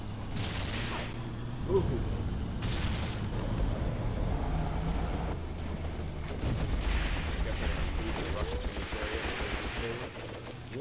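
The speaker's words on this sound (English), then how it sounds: "The machine gun fire." Machine-gun fire in the war strategy game Graviteam Tactics: Mius-Front crackles in bursts at mid-distance, mixed with rumbling battle noise and occasional distant booms. A voice can be heard briefly.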